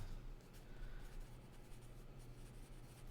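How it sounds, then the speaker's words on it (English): Quiet pen-on-paper scratching of handwritten notes, faint continuous strokes over a low room hum, no talk. "I'm writing that down."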